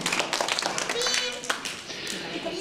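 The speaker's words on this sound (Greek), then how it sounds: "χειροκρότημα, είστε πολύ δυνατή ομάδα" A group of children clapping in a classroom, a scattered patter of hands mixed with an adult voice talking over it, fairly close and moderately loud.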